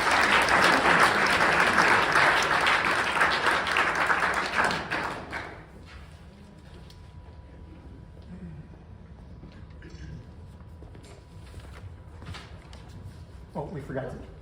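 Audience applause greets a reader at a memoir book launch in the Fulton Library. Loud, close clapping fills the first five seconds and then dies away, leaving a quiet room with a few thumps and brief speech near the end.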